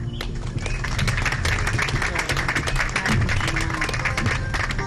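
Audience applause at an awards luncheon for laureates, a dense steady wash of many hands clapping for several seconds, with a voice faintly underneath.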